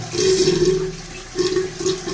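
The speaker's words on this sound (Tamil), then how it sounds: "இந்த தண்ணி எல்லாத்தையும் ரிலீஸ் பண்ணிடுறேன்" Water rushing and gurgling from a western toilet's flush tank as it releases its contents, in two close, steady surges with no voices.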